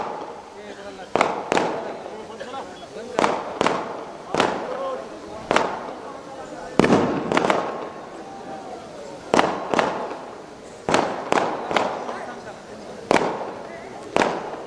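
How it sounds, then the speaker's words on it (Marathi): Firecrackers bursting repeatedly at an outdoor political rally, a long irregular string of loud, sharp bangs at intervals of roughly a second, each with a brief echoing tail, over a crowd's murmur and an amplified voice. "हे फटाके बंद करा रे"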